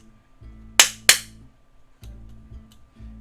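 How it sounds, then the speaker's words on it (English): Two sharp hand claps in quick succession, close and loud, with quiet low background sound around them. "If you can hear me, clap twice."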